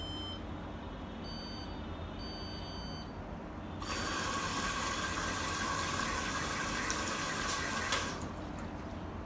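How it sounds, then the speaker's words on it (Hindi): A Candy 9 kg washing machine, model CS1292, fills with water, a steady hiss and rush that grows louder partway through over a constant low hum, with a faint beep near the end. "पानी ले रही थी मशीन"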